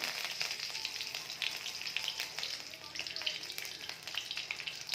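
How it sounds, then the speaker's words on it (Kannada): Mustard seeds crackle and pop in hot oil, a busy sizzle with sharp irregular bursts, close and fairly quiet, no voices. "ಸಾಸಿವೆ ಚಟಪಟ ಚಟಪಟ ಅಂತ ಸಿಡಿತಾ ಇದೆ"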